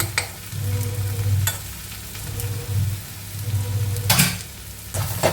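Papaya curry cooking in a pan after ghee and garam masala are added, a close, loud sizzle with repeated scraping stirs of a spatula at an uneven rhythm.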